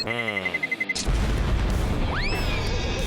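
A cartoon bomb stuck on a banana goes off in a Sonic the Hedgehog cartoon: a falling whistle-like tone, then a sudden loud, sustained blast with rising zinging sweeps near the end.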